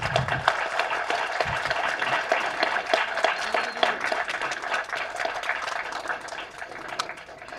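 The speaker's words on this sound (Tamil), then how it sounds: "உங்கள் கரகோஷங்கள் கைத்தட்டல் தான் எங்களுக்கு, எங்களை மாதிரி புது ஆளுங்களுக்கு ஒரு பூஸ்ட்" Audience applause at a film trailer launch event, a dense, steady wash of many hands clapping that stays loud for the whole stretch, with no voices on top.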